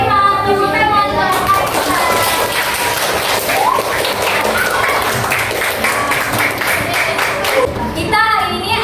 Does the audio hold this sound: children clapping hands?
yes